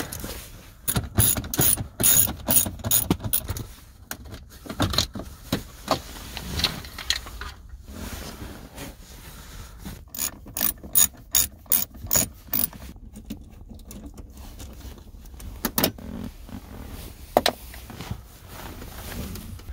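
Close ratchet clicking in quick bursts as Torx screws are loosened inside a Saab at a junkyard, the rapid pawl clatter starting and stopping with short pauses, heard alone without talk.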